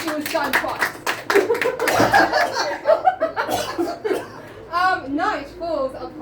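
Players seated around a game table break into a short burst of close handclaps, which gives way to chuckling, laughter and overlapping chatter.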